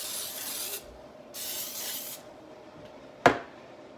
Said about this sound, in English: So let me show you how I sprayed it. I'm using Pam Baking.